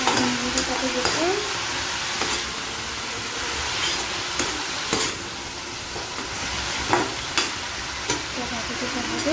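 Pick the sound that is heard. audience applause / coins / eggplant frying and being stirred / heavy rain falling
eggplant frying and being stirred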